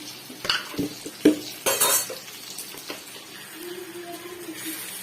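Chilli powder being stirred into lemon pickle with a spoon, giving a few close scraping and clinking strokes against the container in the first half, then quieter faint scraping with a soft tonal hum underneath.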